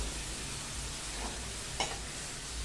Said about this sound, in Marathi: ही टोमॅटोची प्युरी जी आहे ही खूप छान मस्त अशी परतून घ्यायची मीडियम गॅस करून.